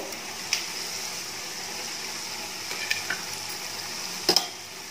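Mustard seeds, urad dal, chana dal, cinnamon, cloves and fennel fry in hot oil for a Kadapa-style rice, giving a quiet, steady sizzle with a few sharp pops and crackles near the start and close to the end.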